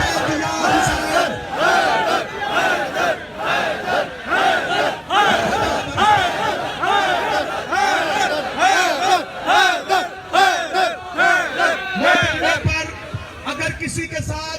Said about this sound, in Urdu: ہاتھوں کو بلند کر کے لبیک یا حسین